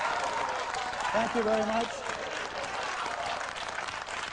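Studio audience applause on a film review TV show, a dense steady wash of clapping throughout with someone briefly speaking over it near the middle.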